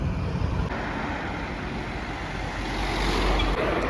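A houseboat glides along the Kumarakom backwaters beneath a bridge, a steady broadband wash of engine rumble and moving water that swells slightly toward the end, with no voices.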